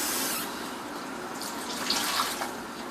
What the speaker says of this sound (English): Add 2 cans of the water to the paste.